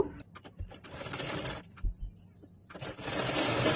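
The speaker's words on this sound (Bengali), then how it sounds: "এখন আমি প্যান্টের সাইডগুলো সেলাই করে নিব এবং সম্পূর্ণ প্যান্টটা রেডি করে নিব" A sewing machine stitches the sides of a pair of pants in short runs, its buzzing whir starting and stopping with quiet gaps and soft clicks between bursts, then running steadily at the end.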